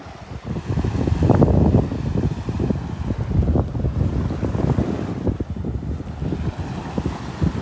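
Ocean surf and gusting wind on a beach walk at Delnor-Wiggins, a steady rushing roar of waves with wind buffeting the microphone, loud and continuous, with no voices.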